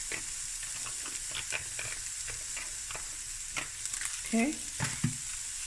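Chopped garlic sizzling in hot oil in a pan for a Cape Malay pumpkin bredie, a steady fry with soft stirring clatter and a brief spoken word near the end.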